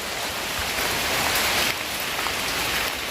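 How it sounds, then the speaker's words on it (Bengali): Heavy rain pours down steadily, a dense hiss of drops drumming on surfaces close by, with no voices. "বৃষ্টি কমার অপেক্ষায় কতক্ষণ আর বসে থাকি বলো"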